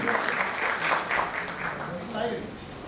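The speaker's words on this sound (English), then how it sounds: "Can we please have another huge round of applause for sir" An audience at a talk on a doctor-patient network applauds, steady clapping from a crowd lasting a few seconds with a voice speaking over it.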